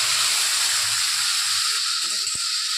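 Onions and tomatoes fry in oil with cumin in a kadai for a dhaba-style egg tadka, giving a steady, close sizzle that fills the clip, with a small clink near the end and no talk.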